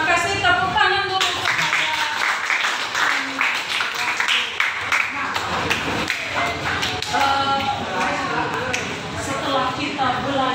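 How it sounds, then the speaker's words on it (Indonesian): Students in a classroom clap after a lesson, a loose patter of hand claps and taps blending with voices and shuffling throughout. "Tepuk tangan dulu"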